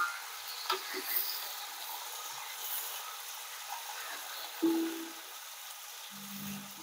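Green chilies, onions, coriander and mint frying in a pan over a high flame make a soft, continuous sizzle, with a few brief clicks and scrapes of stirring, and no talking.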